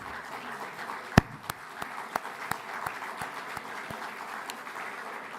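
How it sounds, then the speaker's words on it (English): Scattered applause from a conference audience at the Jerusalem Post Annual Conference in New York: a few sharp, distinct claps in a loose rhythm over a low room murmur, thinning out as it goes. "Yeah, they deserve your applause."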